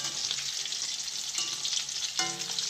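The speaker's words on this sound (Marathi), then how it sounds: "तेल तापलेलं आहे, त्याच्यावर आपण मस्तपैकी पकोडा पहिले तयार करून घेतो" Pakoras sizzle in hot oil over a low gas flame, a steady close frying hiss with occasional stirring clinks, no voices.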